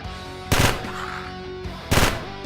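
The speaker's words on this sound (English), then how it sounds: "that's a shotgun round that lights things on fire" Two heavy booming shots from an incendiary shotgun round in a video game, spaced about a second and a half apart, each followed by a lingering crackling tail over a steady tonal game soundtrack.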